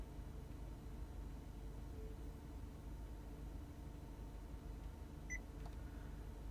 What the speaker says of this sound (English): hold down the menu button again until you hear a beep